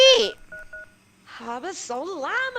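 In The Sims, a telephone is dialed with a few short, evenly spaced keypad tones. A voice speaks before and after the tones, fairly loud and expressive.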